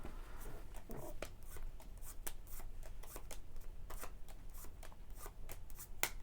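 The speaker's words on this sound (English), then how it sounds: "I'm going to give it a shuffle." A deck of game cards for the Doomlings card game is shuffled with quick riffling and tapping bursts that repeat steadily, close and clear over several seconds.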